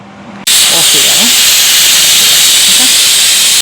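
A loud, sharp pressure cooker steam hiss bursts out suddenly and blasts on steadily until cutting off, with faint voices talking beneath it.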